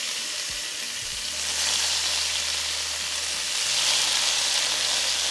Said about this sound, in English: Set it over high heat and allow it to heat up. Once it's nice and hot, add the meat.